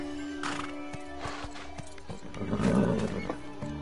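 A horse in the video game Bless Unleashed neighs loudly with a shrill, wavering whinny, and hoof clip-clops sound alongside it.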